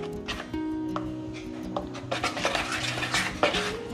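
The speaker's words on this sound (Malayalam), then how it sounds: "നന്നായിട്ടൊന്ന് മിക്സ് ചെയ്ത് കൊടുക്കുക." A spoon stirs bajji batter with a pinch of baking soda in a metal bowl for a crispy Thattukada-style chilli bajji, giving close, steady scraping and clinking against the bowl with a few sharper knocks.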